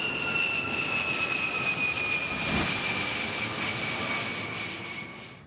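An airplane engine drones steadily overhead, a loud sustained roar with a steady whine, swelling briefly as it passes and then easing off, with no talk.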